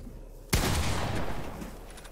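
A single sharp, loud gunshot from a weapon in the battle royale video game Fortnite, during a close 1v1 fight, with a decaying echoing tail and no talking.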